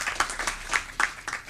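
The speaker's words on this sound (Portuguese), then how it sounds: "muitas palmas para esse homem aqui" Audience clapping at a union council plenary session, a dense burst of many hands in uneven swells, loud and close, with no voices over it.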